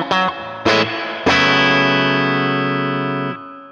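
Three guitar notes struck in succession through a BOSS Nextone Stage amp's spring reverb, the last one sustaining long with a wet, splashy, drippy reverb tail before cutting off; no speech.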